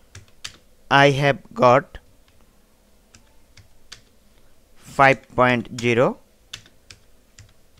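Quick bursts of typing on a computer keyboard, close and crisp, with clicks filling the gaps between short stretches of someone speaking.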